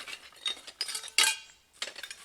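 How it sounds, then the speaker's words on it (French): Old crockery and cutlery from a dumped load of household waste clink and clatter in short bursts, with one louder crash of dishes near the middle and no talking. "La vaisselle."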